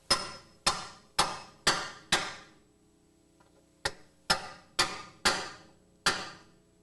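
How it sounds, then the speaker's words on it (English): Sharp metallic hammer strikes on a drift, reseating car suspension studs into their mount, ring out in two bursts, five quick blows, a pause, then six more at a steady rhythm, each with a short decaying ring. "Now we can reseat them into their mount with a drift and a hammer."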